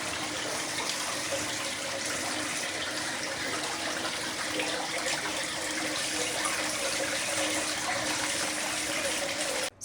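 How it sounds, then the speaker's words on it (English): Water gushing steadily into a large soaking tub in a hotel bathroom, a broad, constant splashing rush that fills the space without pause. "So did you enjoy some of that nice ASMR water sounding?"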